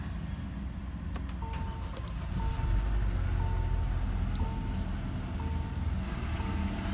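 Soft repeating electronic chimes sound in a quiet 2014 Kia Optima SX Turbo before its engine catches, fresh from an intake install, and settles into a low, muffled rumble that continues under the chimes.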